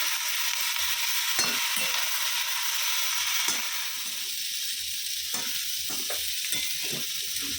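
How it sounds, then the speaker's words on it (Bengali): Dantar chorchori, drumstick stalks with fried lentil bori and tempering, sizzles steadily in a pan, with a few sharp spoon or spatula knocks as it is stirred. "চচ্চড়ি বসিয়ে দিয়েছি, বড়ি ভেজে ফোড়ন দিয়ে ডাঁটার চচ্চড়ি"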